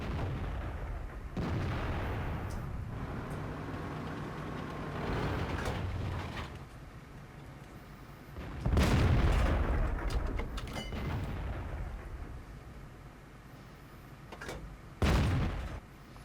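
Tank cannon fire from a T-34-85 in World of Tanks: a few heavy, booming blasts spaced several seconds apart, each with a sharp crack and rolling rumble over a steady engine drone.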